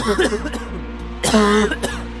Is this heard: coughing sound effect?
yes